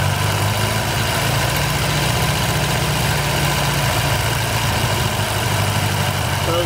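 A 1962 Sprite engine idles steadily and close by while the carburetor lifting pin is pushed up, its low, even running rumble continuous throughout with a brief rise in speed before the throttle settles back.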